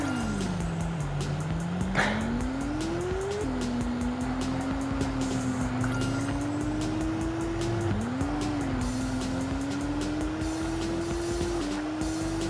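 A car engine drones and shifts pitch as it accelerates through gears, with a rushing, steady background throughout.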